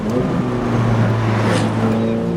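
A McLaren 720S sports car accelerates with a steady, rising engine drone, loud and close throughout with no voices.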